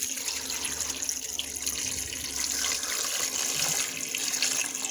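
Water is poured from a pot into an Instant Pot holding chickpeas, a continuous rushing, splashing stream that stays steady and fairly loud throughout.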